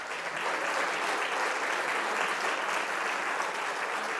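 Audience at a coastal oceanographic lecture on goliath grouper clapping steadily, a dense, even wash of applause from a sizeable crowd held at constant loudness with no talk over it.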